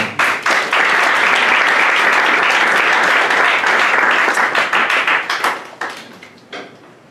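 A church congregation applauds and cheers loudly during a morning service, a dense wash of clapping that holds steady for several seconds and then thins into scattered claps as it fades.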